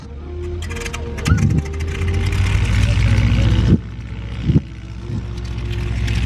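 A Continental 220 horsepower aircraft engine is started at an airfield, a loud rumbling drone that builds and holds with a few thumping bursts, heard under an announcer's voice over a public address.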